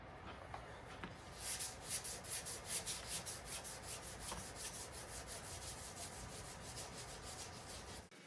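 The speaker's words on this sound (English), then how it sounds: "we're just going to continue to wet sand it down, get all that orange peel out" Wet sanding lacquered paint on a motorcycle gas tank with 2000 grit sandpaper to remove orange peel, a soft rhythmic back-and-forth rubbing with steady close strokes over low background noise.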